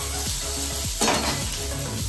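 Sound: star fruit frying with panch phoron, mustard and dried chilli

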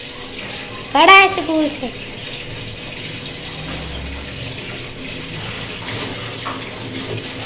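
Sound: washing okra under running tap water

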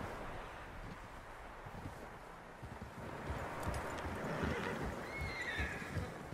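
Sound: horse in the video game Red Dead Redemption 2

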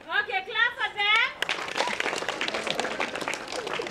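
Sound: audience clapping

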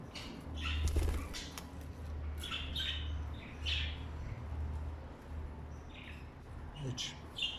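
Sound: pet bird chirping during cage cleaning

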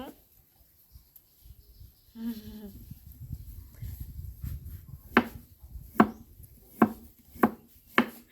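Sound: chopping food with a knife

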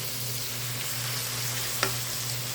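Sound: stirring tomatoes sautéing in pan with fermented mustard greens

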